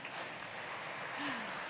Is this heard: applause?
yes